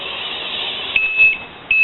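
Low-voltage battery alarm on an RC bus rig beeping in short electronic tones, loud and close over a steady high whine, with several brief beeps near the end.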